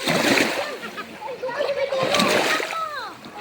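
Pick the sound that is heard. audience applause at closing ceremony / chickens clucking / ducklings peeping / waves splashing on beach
waves splashing on beach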